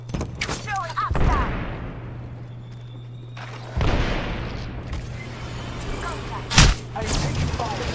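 Video game gunfire and heavy booming shots crack out in several bursts, loud and close, mixed with a steady low hum and a voice talking between the blasts.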